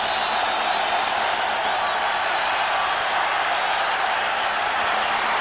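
A football stadium crowd at a 1988 Eagles versus New York game roars steadily, a dense, continuous wall of cheering and whooping from thousands of fans, with no breaks.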